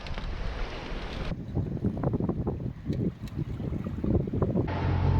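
A square-rigged sailing ship motoring at sea off Newfoundland toward Greenland, with a steady low engine rumble and churning water under continuous wind buffeting on the microphone, no talk.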